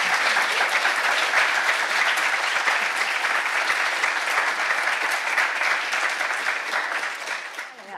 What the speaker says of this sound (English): If we can give the panel a round of applause.